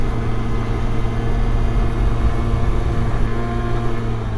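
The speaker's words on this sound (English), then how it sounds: "This bike itself is a very, very willing little engine on it." A 1979 Peugeot Trekker 50 motorbike rides along an off-road lane, its small engine droning steadily and close throughout, a continuous buzzing hum with no pauses.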